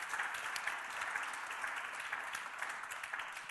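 Steady applause from an audience at a church event fills the room, dense and even throughout with no voices rising above it.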